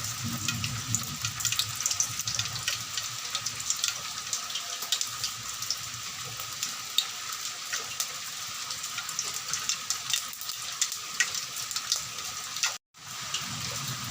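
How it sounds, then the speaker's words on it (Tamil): Mustard seeds splutter and crackle in hot oil, a steady dense sizzle with fine popping that runs continuously and fairly close, with one brief dropout near the end. "எண்ணெய் காஞ்சதும் கடுகு போடணும்."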